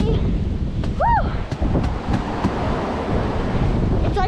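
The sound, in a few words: strong wind during a New York snow storm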